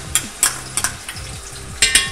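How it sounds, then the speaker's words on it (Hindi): Garlic ginger paste fries in hot oil for a chicken biryani base. A low sizzle runs underneath, broken by several sharp stirring scrapes of a utensil against the pan, close up and with no voices. "उसके बाद मैं बीच में लहसुन अदरक का पेस्ट ऐड करूँगी"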